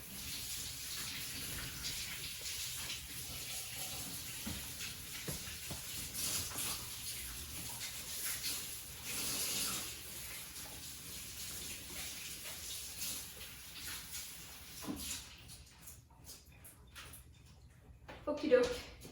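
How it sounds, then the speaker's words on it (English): Tap water runs into a kitchen sink while bok choy is rinsed under it, a steady close rush that ends with a few louder splashes and clunks. "So let me just rinse that off real quick."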